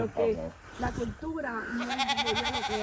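Goats bleat on a Florida farm, several wavering, nasal calls close by, overlapping one another while a person talks nearby.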